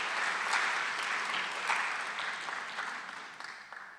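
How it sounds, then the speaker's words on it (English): An audience at a university alumni awards ceremony applauds, a dense sustained wash of many hands clapping that gradually fades. "let's give yourself a round of applause for that contribution"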